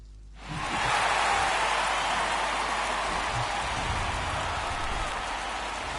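Pouring rain falls at a Cincinnati ballpark before Game 2 of the 1988 World Series, Twins at Reds, as a loud, steady, dense hiss that swells in within the first second and holds unbroken.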